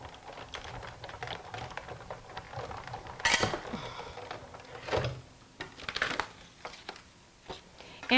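A hand-cranked die-cutting machine feeds a card stock card base through, giving a quiet run of clicking, creaking mechanical ticks with a louder grinding burst partway and irregular knocks afterward.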